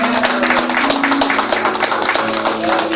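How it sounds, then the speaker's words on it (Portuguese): Church congregation applauding in worship, dense mixed clapping with a sustained tone and a voice speaking under the rhythmic hand claps. "aplauda e glorifique o Senhor"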